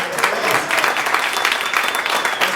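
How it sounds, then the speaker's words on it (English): Dense, bright applause for a Special Olympics silver-medal soccer team fills a hall. Many hands clap at once, steady and close, without a break. "So give them a round of applause."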